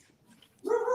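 A single close dog bark rings out abruptly after a quiet moment, loud and sharp, lingering briefly.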